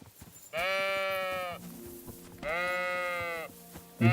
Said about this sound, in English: Run away the sheep.